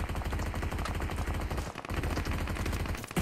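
Rapid gunfire in the PUBG Mobile battle royale game, dense repeated shots firing almost continuously with a brief gap partway through, loud and close.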